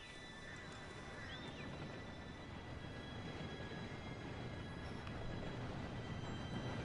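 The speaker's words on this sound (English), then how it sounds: "Train should be here any minute now." A train arriving in the Red Dead Redemption 2 video game: a steady, broad rumble of rolling rail cars that grows slightly louder over about seven seconds, with faint higher squeals above it and no talking.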